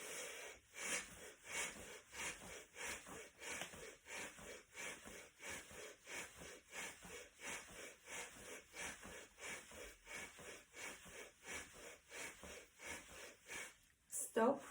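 Deep rhythmic breathing during a seated breathing exercise with arms raised, elbows at the sides and fists closed, heard as a long series of close, loud, regular inhales and exhales with no talk.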